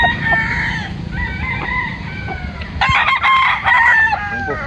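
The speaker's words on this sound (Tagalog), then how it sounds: "Kanawayan na po sa Boston." A young Kanawayan cross Boston gamefowl stag crows repeatedly, its harsh, ringing calls stacked close together and loud near the listener, over a steady low background rumble.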